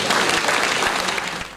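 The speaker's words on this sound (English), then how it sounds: "Clap for Jesus." A church congregation clapping at a synod closing ceremony, a short burst of dense, loud applause that fades slightly toward the end.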